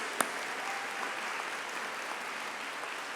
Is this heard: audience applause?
yes